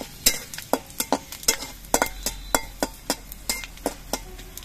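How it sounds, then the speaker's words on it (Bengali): Bay leaves, small dried red chillies and panch phoron frying in hot oil, with a regular series of sharp spatula scrapes and clinks against the pan over a low sizzle, close and steady, no talking. "এবার মশলাগুলো আমি একটু ভেজে নেব।"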